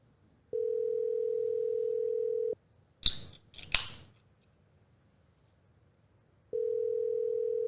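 Ringback tone heard on a telephone while calling a number, with two long steady tones separated by a few seconds of quiet, broken by short bursts of scraping noise in between.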